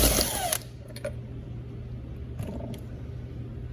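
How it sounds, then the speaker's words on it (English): An engine's flywheel nut being removed with a power tool: a loud impact burst at the start, then a low mechanical hum with a few sharp clicks and knocks, close by and with no talking. "Let's go ahead and remove the flywheel nut."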